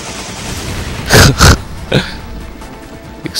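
In the Resident Evil 5 Mercenaries mode, set in the Mines stage, game explosions land as two heavy booms close together, followed by a smaller blast and a few faint shots.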